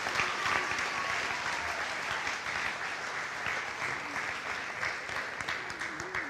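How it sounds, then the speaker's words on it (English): Audience at a 2023 high school commencement applauding scholarship students, steady sustained clapping from a large crowd, continuous and fairly distant throughout. "So that is worth another round of applause for these terrific students."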